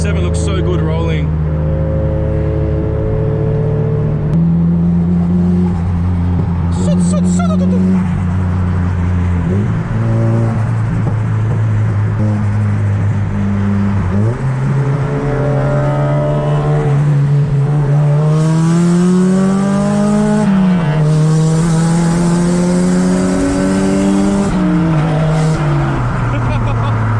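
Japanese performance cars, including a Nissan Silvia S15 and an RX-7, cruise past at a car meet with loud, continuous engine drones and revs that rise and fall, tires squealing briefly, and people talking over the noise.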